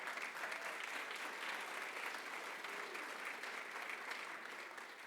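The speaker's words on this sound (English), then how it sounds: "Please give them a round of applause" Sustained applause from a conference audience at a county colleges leadership summit, acknowledging student ambassadors; steady clapping throughout at moderate distance, no voices over it.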